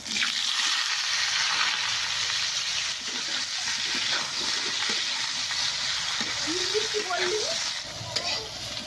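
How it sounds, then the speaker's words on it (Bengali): Young jackfruit pieces frying in oil, a loud, continuous close sizzle with bubbling and occasional stirring clinks, and a faint voice briefly audible near the end. "আমি এঁচোড়টাও ভেজে নেব"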